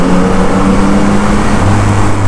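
Motorcycle engine on a touring ride, a steady loud drone with rumbling low tones and a shift in pitch near the end, mixed with wind noise and no talk.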